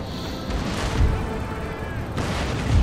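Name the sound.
musket and artillery gunfire in a Waterloo video game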